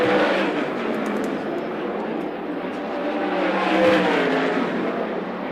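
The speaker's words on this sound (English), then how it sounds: "checkered flag is out, and getting the final heat race win for the Weikert Livestock 410 Sprint Cars will be the Weikert Livestock 48 of Danny Di" 410 sprint cars race in a heat at Port Royal Speedway, their engines a continuous loud roar that swells and fades slightly as the pack passes.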